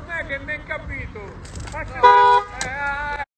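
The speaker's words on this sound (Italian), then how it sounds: "Ha cantato il clacson." A car horn gives one loud, steady honk of about half a second, sounding over ongoing conversation and street background.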